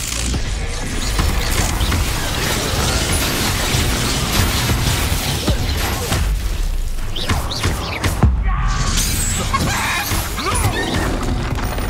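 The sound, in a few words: spell blasts and explosions in the video game Hogwarts Legacy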